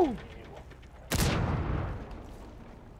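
A single sharp gunshot rings out in Rainbow Six Siege on a favela map, a loud close crack with a reverberant tail that slowly fades, after a brief moment of voice at the start.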